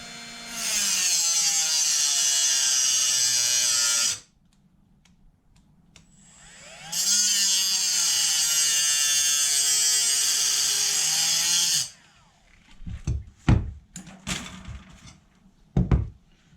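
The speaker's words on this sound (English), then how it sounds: "I'm just going to use a mini grinder, a mini cutter" A mini grinder cuts through a classic Mini's brake pipe in two long, loud, steady high-pitched whining bursts separated by a pause, followed by a few sharp clanks and knocks.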